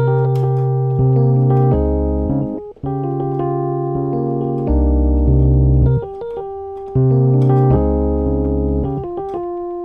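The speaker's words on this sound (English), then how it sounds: "Melody sounds like this." Piano melody played alone, moving through short phrases of sustained notes over low bass notes, loud and close, with the pattern repeating partway through.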